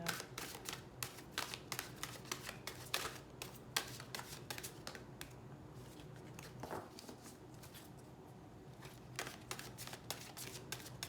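Tarot cards are shuffled by hand in quick, quiet riffling bursts and soft slaps, close and intimate, with brief pauses between runs and no talking.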